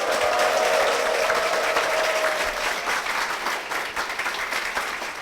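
A church congregation applauds to welcome an elder forward, dense sustained clapping from a full room that holds steady and eases slightly toward the end, with no talking over it.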